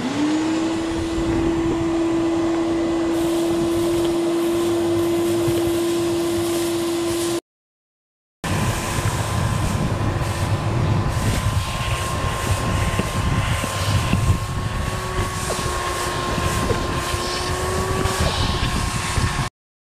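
A shop vac sucks sand out of a pool sand filter tank with a loud, steady droning whine. It cuts off briefly and then runs again, its pitch shifting slightly as the sand is drawn up.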